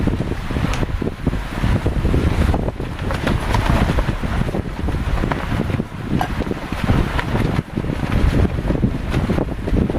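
Strong wind blowing outdoors across a lake in the Boundary Waters in fall, a loud continuous rushing roar buffeting the microphone, with no voices.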